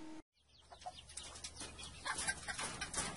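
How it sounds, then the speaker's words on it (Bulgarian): Chickens cluck on a street in Ankara, Turkey, with short, fairly close clucks over general street background noise after a brief cut. "В Анкара вместо котки и кучета има кокошки."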